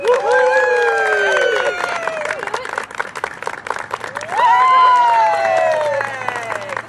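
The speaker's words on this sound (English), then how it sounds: "let's give NHC a big round of applause as they cut the ribbon on this new Tullahoma facility" An audience applauds at a Chamber of Commerce ribbon cutting for a new NHC facility in Tullahoma, with sustained loud clapping and crowd noise rising again midway, under a voice that carries across.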